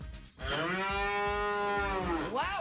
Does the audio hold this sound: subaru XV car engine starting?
no